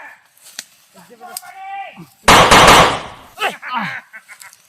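Loud burst of gunfire from a hunter's gun erupts mid-clip amid shouted speech, a dense crackling blast lasting about a second, followed by more talking.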